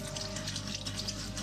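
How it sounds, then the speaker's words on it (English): Champagne pours steadily down a sink drain, a soft, continuous splashing trickle that stays fairly quiet throughout, with no talking. "Why are you pouring all that perfectly good champagne down the drain?"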